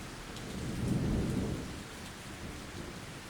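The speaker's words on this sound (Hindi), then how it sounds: "अगले दिन तूफान की वजह से जोरों से हवा हो रही थी।" A storm with strong wind and rain: steady rainfall hisses throughout while a low thunder-like rumble swells and fades, with no voices.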